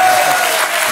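A television studio audience breaks into loud, dense applause, a continuous wash of clapping that holds steady through the whole short moment.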